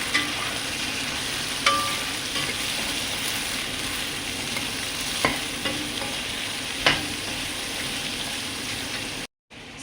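Chopped onions and green chillies frying in a pan with ginger and garlic for chicken curry: a steady close sizzle with a few sharp clinks of stirring. It cuts off abruptly just before the end.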